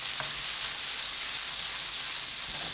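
Ground meat for Salisbury steak browns in a pan with a loud, close, unbroken sizzle and hiss, and no voices over it.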